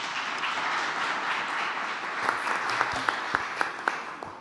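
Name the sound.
audience applause at a book presentation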